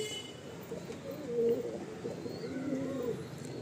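A female pigeon, a ragdar breed, gives soft low coos, two brief rolling calls about a second apart against a faint, quiet background.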